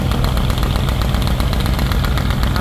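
A river passenger launch stuck on a sandbar runs its engine flat out, the turbo and silencer pipe roaring loud and close in a dense, rapid pulsing rumble that never lets up.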